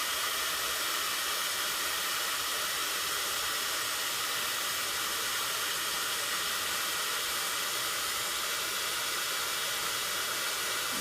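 A heat embossing tool blows a constant loud hissing rush of hot air over a stamped card, running unbroken and alone from start to finish.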